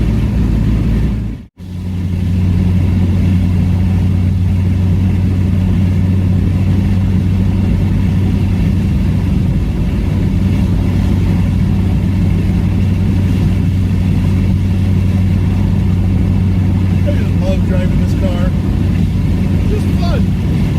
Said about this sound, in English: the wind noise is much louder than the exhaust